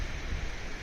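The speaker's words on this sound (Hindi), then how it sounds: "बहुत तेज़ बारिश लगी है।" Heavy rain pours down in a continuous, even hiss of water, moderately quiet and steady with no distinct drops or voices standing out.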